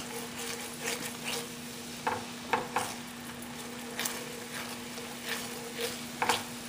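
Soy sauce goes into a pan of sizzling meat roll filling with mushroom and potato, a faint steady hiss broken by several soft clinks and scrapes of a utensil against the pan.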